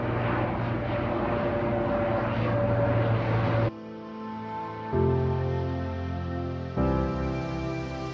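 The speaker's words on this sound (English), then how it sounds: "The seaplanes are a major method of transportation. There were so many in this harbor." Seaplane engine droning over Ketchikan harbor, a steady propeller hum that is moderately loud and continuous, changing in character a few times as it passes, with no voices.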